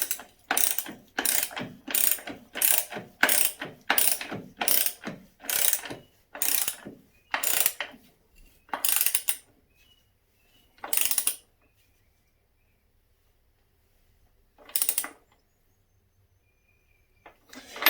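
A hand ratchet tightens the rear axle nut on a Honda CB750 K2 motorcycle, a rapid run of close, crisp clicking strokes that slows into spaced single pulls and then stops, alone with no talk.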